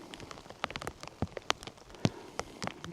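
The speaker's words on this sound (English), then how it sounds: "it's actually snowing or hailing, the mixture between snow and hail. Let's call it sleet." Sleet, a mix of snow and hail, pattering irregularly on a nearby surface outdoors during a New Zealand red stag hunt, with distinct individual ticks over a quiet background and no speech.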